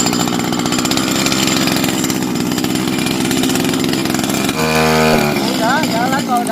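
Small grass-cutter engine fitted to a bicycle runs with a rough, buzzing two-stroke drone throughout, with a revving burst near the end; people talk over it.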